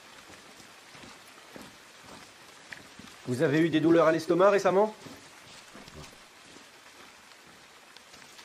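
Steady rain falling at nightfall, a soft continuous hiss throughout, with a short spoken exchange rising over it midway.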